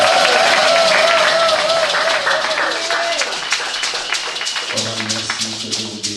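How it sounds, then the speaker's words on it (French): A church congregation applauds and cheers in praise during a French-language service, the clapping and crowd noise fairly loud, with a voice and music-like tones running underneath before the clapping settles into a rhythmic beat. "Est-ce que nous pouvons donner des acclamations au Seigneur?"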